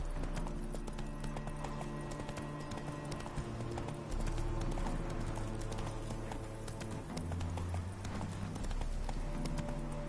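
Horse hooves clip-clop steadily while riding in a video game, a continuous trotting rhythm layered over constant game music and ambience.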